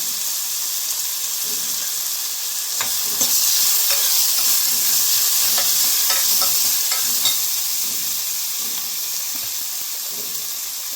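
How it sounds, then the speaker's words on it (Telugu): Onions and green chilies fry in a hot pan for gongura mutton, with a steady close sizzle broken by repeated scraping stirs of a spoon. "కొంచెం వేడైన తర్వాత ఆనియన్స్ వేయాలి. పచ్చిమిర్చి వేసుకోవాలి."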